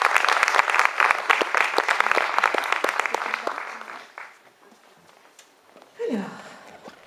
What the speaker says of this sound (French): On peut tous les applaudir très fort.